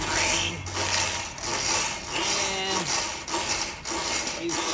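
Ridgid K60 sectional drain cleaning machine running with a sawtooth cutter head on sectional cable, giving a steady mechanical whir with rhythmic ratcheting clicks and knocks throughout.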